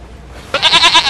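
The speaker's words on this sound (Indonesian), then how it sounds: "Oh, kambing kurban ternyata." A sacrificial goat gives a loud, close bleat, a wavering cry of several pulses that starts abruptly after a short quiet moment, with no voices over it.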